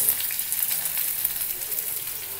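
Garlic and onion fry in a pan with a steady, close sizzle that hisses on without a break. Faint scrapes or stirring noises sit on top of it, and no one speaks.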